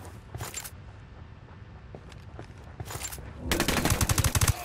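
Rapid submachine gun fire in the video game Ghost Recon Wildlands, with short bursts followed by a loud, sustained automatic burst of many shots close by, over a background of distant game ambience.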